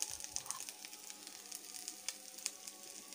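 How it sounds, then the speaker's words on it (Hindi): Chopped tomato sizzles in a hot pan for egg masala Maggi, a steady bright crackle and hiss close by with occasional louder pops and a brief stirring scrape, no one speaking. "फिर इसके बाद हम इसमें मिलाएंगे चॉप किया हुआ टमाटर"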